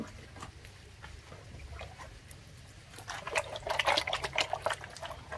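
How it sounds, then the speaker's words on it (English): Pumpkin washed under running water at an outdoor Jamaican cooking setup, with soft trickling and splashing that grows louder and busier toward the end over a low background hum. "There, get the pumpkin wash off."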